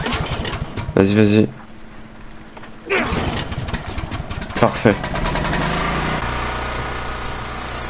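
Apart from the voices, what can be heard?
lawn mower engine running in The Last of Us video game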